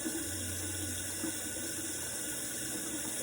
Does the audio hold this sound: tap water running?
yes